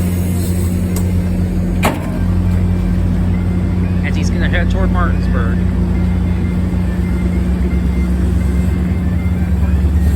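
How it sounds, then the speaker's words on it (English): A MARC commuter train led by an MP36 diesel locomotive, with 7700-series coaches and cab car 7762, releases its brakes and pulls away. A steady, loud engine drone runs throughout, with someone talking over it. "13 will release his brakes and get moving again"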